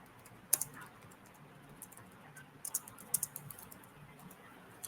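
Soft typing on a computer keyboard, scattered key clicks and a few sharper taps in small clusters, quiet and close.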